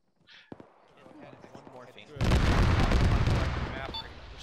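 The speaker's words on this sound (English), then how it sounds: "There's an autocannon to the southwest. Looks like some BMPs are coming down." Autocannon fire from a BMP armored vehicle rings out in an Arma combat game, a sudden sustained burst of heavy booming rounds after quieter scattered shots and movement, loud and continuous for about two seconds before tapering.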